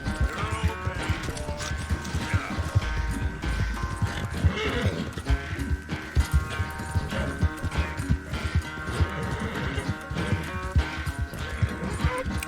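A horse gallops in Red Dead Redemption 2, its steady hoofbeats pounding under a game music bed, with occasional whinnies and snorts in a continuous, close run.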